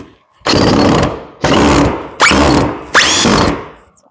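A handheld power drill drives two screws into a bracket for hanging a fire extinguisher beside window trim, four loud whirring bursts of roughly half a second to a second each, separated by short pauses, close by with no talk.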